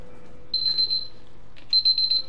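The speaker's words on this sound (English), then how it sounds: "Stupid alarm." An alarm rings in the video game Resident Evil Revelations: two bursts of rapid, high electronic beeping over a low background hum.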